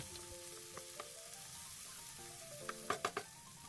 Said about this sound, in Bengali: টমেটো কুচিটা তেলের মধ্যে নাড়াচাড়া করতে হবে নরম হওয়ার জন্য